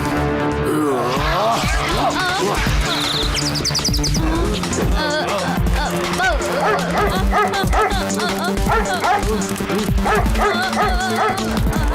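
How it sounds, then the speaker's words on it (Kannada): Cartoon street dogs bark and yip loudly and continuously in a chaotic attack scene, with whimpers and bird chirps mixed into a dense backing of music and effects. "ಬೀದಿ ನಾಯಿಗಳೆಲ್ಲ ನಿಮ್ ಬುಲೆಟ್ ಮೇಲೆ ಅಟ್ಯಾಕ್ ಮಾಡ್ತಾ ಇದೆ"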